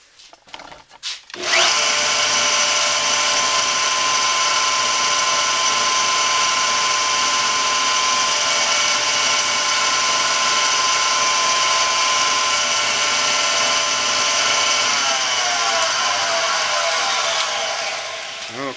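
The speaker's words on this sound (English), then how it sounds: "turn on a 2x72 with a 220 grit belt and smooth up that face right there" A 2x72 belt grinder fitted with a 220 grit belt smooths the face of full tang knife handle scales, a loud, steady whine and abrasive hiss running unbroken for about sixteen seconds after a brief startup.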